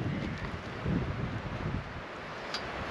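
Wind blowing through a woodland tent campsite in changing autumn weather, a faint steady rushing with soft gusts and rustling, buffeting the microphone at low level.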